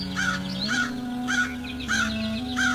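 A baby crow in a Hindi cartoon caws repeatedly in short rhythmic calls, about five bursts over a few seconds, loud and close over a steady musical backing.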